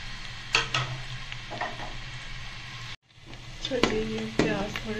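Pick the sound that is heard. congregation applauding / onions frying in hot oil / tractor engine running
onions frying in hot oil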